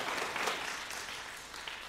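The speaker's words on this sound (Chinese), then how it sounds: "在我们那里热烈鼓掌一下，欢迎" A church congregation at a Sunday service applauds, with a soft, distant patter of clapping that fades slightly toward the end.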